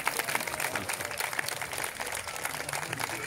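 Outdoor summer evening event audience applauding in Carpegna, a fairly quiet, dense patter of many hands clapping steadily with background ambience mixed in.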